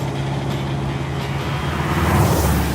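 The air-cooled Volkswagen Beetle engine in James May's buggy drones steadily and harshly up close, a constant rumbling racket that swells slightly toward the end, with no talking.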